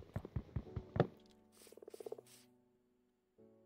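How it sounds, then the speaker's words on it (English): A frog croaking in the Minecraft video game: a quick run of rhythmic, throaty croaks, then a softer rattling burst of pulses, and a short final croak after a brief silence, with no talking. "Oh, that was a frog."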